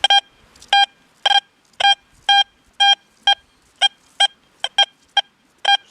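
XP Deus 2 metal detector giving a repeated target call at speed 2 near nonmetallic obstacles: about a dozen crisp short electronic tones in an uneven rhythm, clear against near silence.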